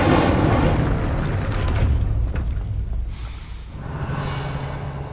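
The Incendio fire spell goes off in Hogwarts Legacy on PS5 with a deep, rumbling whoosh and burst, followed by a fading roar and then a softer second swell.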